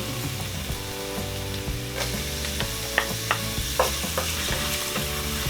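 Garlic and ginger fry in a pan with a steady close sizzle, with a few sharp stirring scrapes and clinks over the constant crackle.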